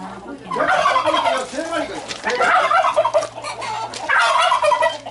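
A turkey gobbles loudly and close by in three rapid warbling bursts, kept in a small pen with hens, a rooster and rabbits by a parking lot below Geumo Mountain in Gumi.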